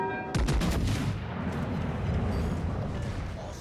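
Heavy naval guns of the battlecruiser Schlieffen firing in World of Warships Legends, a loud booming salvo followed by a long rumbling roll of continuous battle noise.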